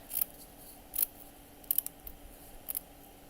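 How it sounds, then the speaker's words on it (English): Scissors snip through fabric in a few short, crisp cuts spaced apart, close and quiet over a faint steady hum. "So first I'm going to just roughly cut it out of the fabric."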